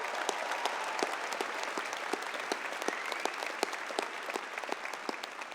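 Applause from a university commencement crowd for singer Abigail after the national anthem continues steadily, a soft, distant wash of many hands with a few sharper nearby claps standing out, and no voices heard.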